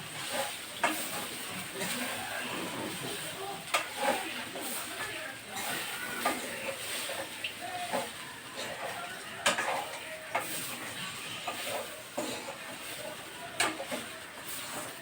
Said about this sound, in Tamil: நல்லா கிளறணும் நீங்கள் கொட்டினவுடனே கிளறி எடுத்து வச்சிடாதீங்க